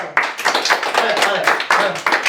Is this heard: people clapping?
yes